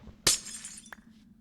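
A Minecraft mana glass block is broken by hand, giving one sharp glass-shattering crash that fades quickly and then a small clink just after, over a faint background hum with no speech.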